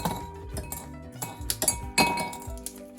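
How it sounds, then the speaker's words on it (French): Roasted hazelnuts are broken and dropped into a blender bowl, giving a scattered series of sharp clinks and clatters against the hard bowl, irregular and close up. "maintenant, tout ce qu'on va faire, c'est les casser et venir les mettre dans le bol du mixeur"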